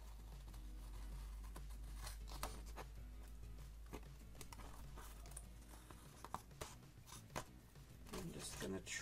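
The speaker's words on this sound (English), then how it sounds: "I'm going to flip it over so I can see where I'm cutting." Scissors snip and trim paper for a fall-themed planner page, giving soft, close, intermittent cuts and rustles over a steady low hum while a person talks quietly.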